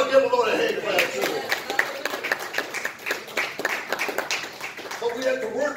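A church congregation claps during a Sunday evening service. The hand claps are uneven and scattered and sound moderately close, with voices talking and calling out over them the whole way through.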